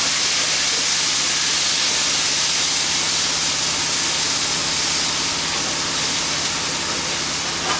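Food sizzling hard in a hot wok after oyster sauce goes in, a loud, continuous hiss that stays dense and even from start to finish, with no voices.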